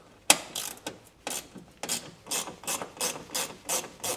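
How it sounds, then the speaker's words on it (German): Small ratchet with a 7 mm socket turning a bolt on a Dacia Sandero Stepway front grille, a sharp first click followed by a steady run of ratcheting clicks in even strokes, close and clear. "Adapter auf die kleine Knarre und die Nuss drauf. So rum ist fest. Umlegen. Lose."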